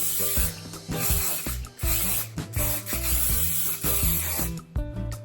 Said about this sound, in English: You might think that that was a lot of hairspray, and you will be right, it is a lot of hairspray.